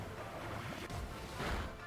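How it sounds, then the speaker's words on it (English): The Whirlpool water move in Pokemon Sword, The Isle of Armor, makes a short rushing, swirling surge of water with a wave-like swell, steady and moderately loud with no talk over it. "Whirlpool."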